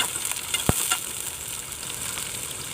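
Onions frying and being stirred in a pan for a dried fish curry, a steady soft sizzle with one sharp scrape or clink of the spoon early on, close and alone.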